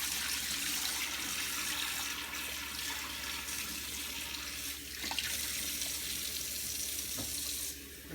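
Water runs steadily from a tap into a sink as a dye bath of water mixed with Synthropol is poured off and a bowl is rinsed, a continuous close splashing flow with a few small clunks.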